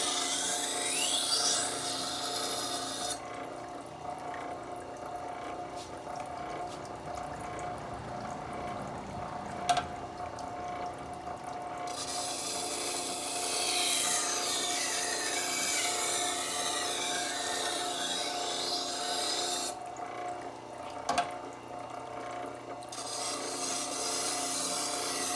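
A chef's knife is drawn across a sharpening stone in long, repeated gritty rasping strokes, with short pauses between passes and a couple of sharp clicks, close and alone without talk.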